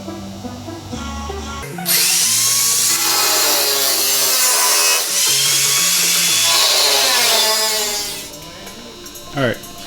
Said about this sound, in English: Just take in mind the width of your cutoff wheel when you make the vertical cuts